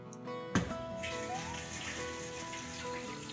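A Maytag washer tub fills with water during a test run after a pressure switch replacement, a steady rushing, splashing stream with no voices.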